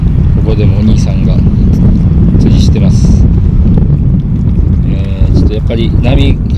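Strong seaside wind at a fishing spot on Ishigaki Island buffets the microphone in a steady loud roar, with whipped-up waves washing beneath and a person talking over it throughout.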